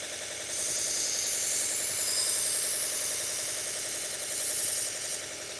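A knife sharpening machine runs at 2,000 RPM, grinding a Shun knife with a steady, bright hiss over a low motor hum that swells and eases slightly as the blade moves across the wheel.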